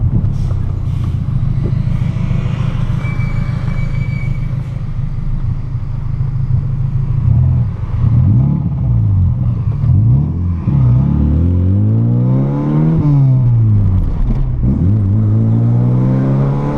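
A VW Golf MK3 running with no mufflers revs hard, its loud, raw exhaust rising and falling in repeated sweeping pulls close by, with no talk over it.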